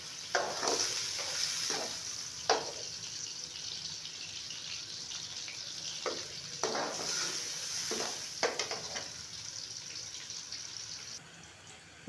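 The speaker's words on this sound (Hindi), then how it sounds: "आहिस्ता आहिस्ता प्याज़ों को हिलाते रहें, ताकि प्याज जो है ना जले भी ना" Sliced onions sizzle and fry steadily in a pan, with several scraping stirs from a spoon in irregular bursts, close and moderately quiet, and no voices.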